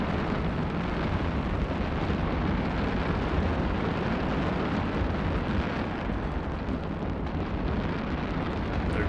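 Fireworks going off in the space game EVE Online make a dense, continuous roar of crackling bursts that stays loud and steady throughout with no talk over it.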